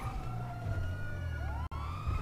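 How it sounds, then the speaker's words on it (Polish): Police car sirens in a video game wail continuously during a chase, their pitch sweeping up and down, fairly close and steady with traffic noise beneath. "gonią nas 3 radiowozy"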